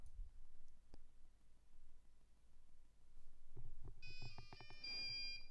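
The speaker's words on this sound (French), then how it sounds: "On va juste attendre le petit bip de démarrage." An OPNsense open-source firewall box boots and sounds its startup tones, a short sequence of faint electronic beeps near the end after quiet clicks and low room hum.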